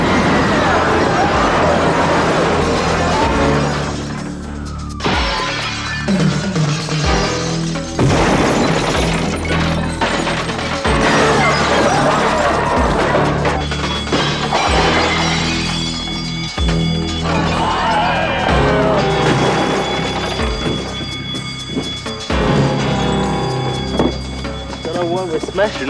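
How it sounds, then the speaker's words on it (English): Glass and objects crash and shatter repeatedly inside a pub as it is wrecked, with loud, dense bangs and smashes running throughout, mixed with shouting voices and background commotion. "Smashing all this."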